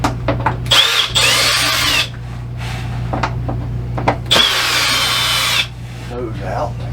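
A cordless power drill backs four screws out of a plastic cover on an RV, with two loud whirring bursts of roughly a second and a second and a half, separated by quieter clicks and handling noise.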